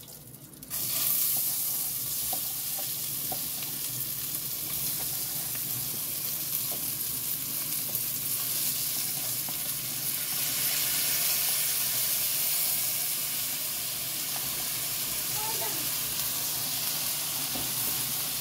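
Washed rice tipped into a pan of hot, sizzling cumin seeds sets off a loud, steady hiss and crackle of frying that carries on evenly, with faint stirring and scraping in the pan.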